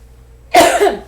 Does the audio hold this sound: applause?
no